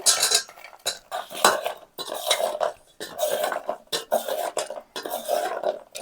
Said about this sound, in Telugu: ఈ విధంగా కలుపుకున్నాం కదా, అంత మన చక్కెర పాకంలో వేసి కలిపేసాం కదా